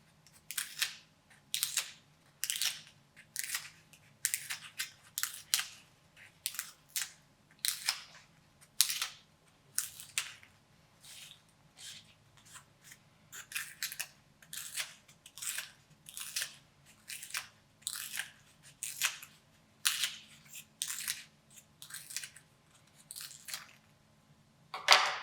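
Scissors snip through colored foam strips in a steady run of crisp individual cuts, close and clear with short pauses between them.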